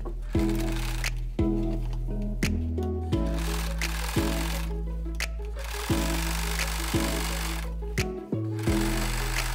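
Sewing machine stitching down the seam of a denim pant leg, running in repeated loud bursts of rapid needle chatter separated by short pauses and clicks.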